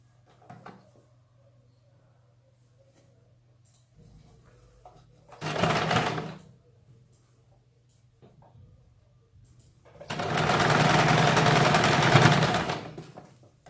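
A sewing machine runs double-stitching along the shoulder seam of a slip petticoat in two short bursts, one brief and one longer, close and fairly loud over a quiet room hum.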